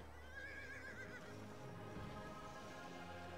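Horse in the video game Kameo on a troll-overrun battlefield gives a clear, quavering neigh near the start, with soft hoof clip-clops and quiet background underneath.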